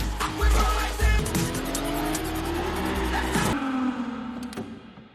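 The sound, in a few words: sports cars speeding, tires squealing in film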